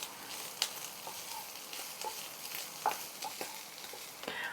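Vegetables with dried garlic frying lightly in a pan, a steady soft sizzle with occasional scrapes and clinks as they are stirred, close and continuous with no talking.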